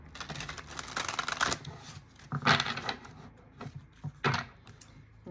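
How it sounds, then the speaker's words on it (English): Tarot cards being shuffled close by, a few bursts of riffling and sliding card sounds with brief pauses between, fairly quiet and with no talking. "We'll give her another 3 shuffles."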